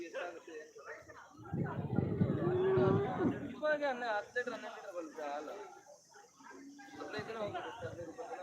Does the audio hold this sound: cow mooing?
yes